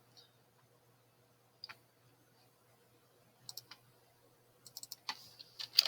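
Typing on a computer keyboard gives sparse, quiet clicks that come in short clusters, isolated at first and then quicker and louder toward the end, with no talk over them.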